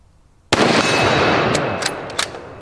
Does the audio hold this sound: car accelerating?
no